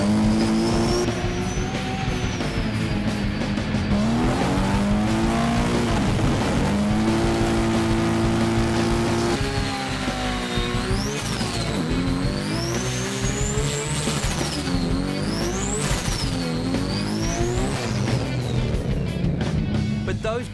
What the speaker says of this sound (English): Look at the big burnout on there.